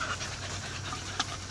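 A litter of puppies panting steadily and softly at close range, a continuous breathy rhythm with a brief faint scratch or yip near the end.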